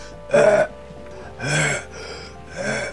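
A voice imitates a sick person coughing and struggling to breathe, producing three separate raspy, breathy bursts with short pauses between them, close to the microphone.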